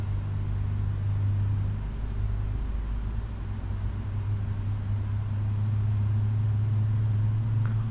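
Boeing 777 engines in a flight simulator game hum steadily on the ground after pushback, a continuous low droning rumble with a constant tone, loud and alone throughout.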